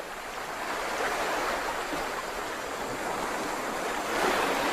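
Ocean waves and surf wash steadily along a shore, a broad continuous roar with gentle swells and a slight surge near the end, some wind mixed in and no voices.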